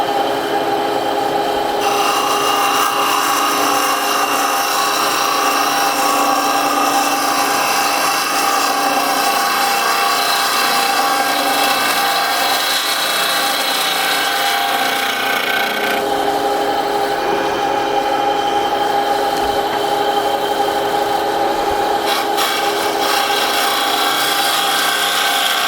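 A lathe tool cuts into an oak segmented bowl with a steady, close rasping scrape that runs continuously, with slight shifts in tone as the cut moves across the wood.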